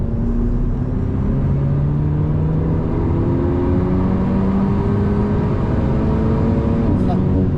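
An Alpine A110 S sports car accelerates hard on a wet track at Spa-Francorchamps, heard from close range. The loud engine climbs in pitch again and again as it runs up through the gears.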